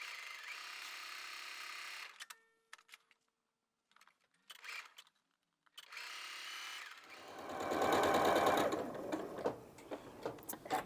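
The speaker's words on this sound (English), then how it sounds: "whiz them through the sewing machine." A sewing machine runs in steady whirring bursts, pausing briefly between runs, then speeds up into a louder, faster stitching passage, sewing quilt pieces cut on a bias edge.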